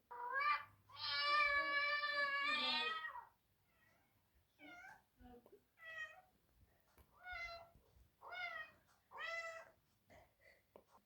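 Kitten meowing and calling for its mother: a long, loud, high wail followed by a series of shorter, separate meows, fairly close and alone without talk.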